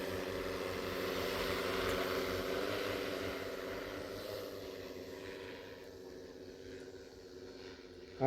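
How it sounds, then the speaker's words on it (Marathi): A steady, buzzing whir of small propellers hovers at moderate distance, holding level before easing slightly quieter toward the end, from an agricultural drone spraying a pigeon pea crop. "ही तूर आपण फवारतो आहे ड्रोननी"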